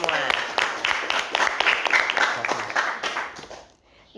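Clapping from a small group during a school podcast about student extracurricular clubs, a few seconds of sparse, distinct hand claps with voices mixed in, then stopping abruptly.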